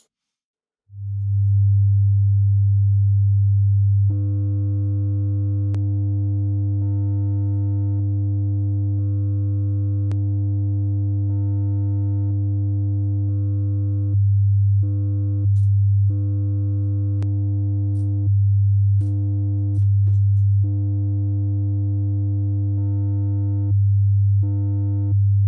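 A low sine wave test tone plays steadily, first clean and then clipped, which adds a buzzier edge, with several brief switches in the tone.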